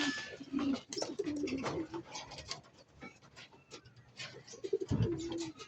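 Racing pigeons cooing close by, repeated low throaty coos with rustling and scattered bird sounds between them.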